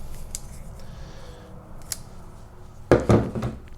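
Folding shears snap shut with a couple of light clicks and then a louder metallic clack and rattle as the handles fold up, close and distinct.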